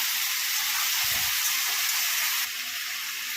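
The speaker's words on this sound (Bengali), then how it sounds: "সবজিগুলো একটু হালকা ভাজা হয়ে গেছে," Vegetables, including eggplant and stalks, frying lightly in hot oil while being stirred, giving a steady close sizzle with a short low stir or clatter near the middle and a slight drop in level toward the end.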